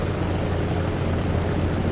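A helicopter flying in the video game War Thunder gives a steady, dense engine and rotor drone, loud and unbroken throughout with no talk.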